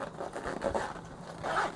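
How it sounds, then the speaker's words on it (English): A zipper on a Maxpedition 8 x 10 inch pistol case is pulled closed in a few short scraping runs, close and fairly quiet, with a slightly longer pull at the end. "Zips closed."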